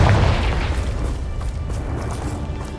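A Confringo spell bursts in a Harry Potter video game, a deep booming blast that hits loudly at the start and then rumbles and fades over a couple of seconds.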